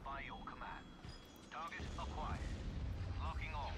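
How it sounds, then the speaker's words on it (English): A bombing run of Hellfire missiles in the strategy game Empire at War, heard as a dense rolling rumble of blasts and artillery-like booms that build and sustain under steady overlapping talk from players. "How about we just drop a bombing run on them? Yeah, fire that. Hellfire missile"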